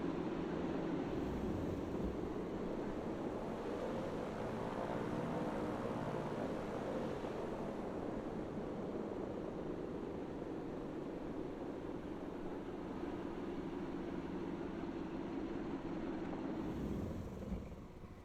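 Engines of a Grumman HU-16 Albatross amphibian spool down during shutdown in the MSFS 2024 flight simulator, a steady loud droning roar with a slowly sweeping tone that winds down and tails off at the very end.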